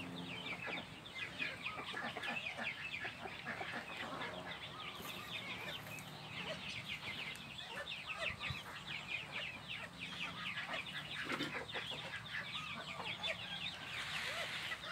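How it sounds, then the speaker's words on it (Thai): Bantam rooster with white legs, kept as an ornamental fowl, calling in the morning; busy, steady clucking and crowing-type calls fill the whole stretch at moderate loudness. "ความสุขครับตอนเช้าเนี่ยเช้าเนี่ยไปฟังเสียงเขาขัน"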